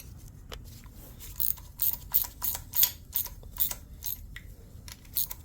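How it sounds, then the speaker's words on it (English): Torque wrench ratcheting while tightening engine bolts to 15 foot-pounds during an engine replacement on a 2005 RAM 1500 4x4 with the 5.7L HEMI, a run of about a dozen crisp, close clicks in a steady rhythm with no talking. "Torquing these to 15 foot-pounds."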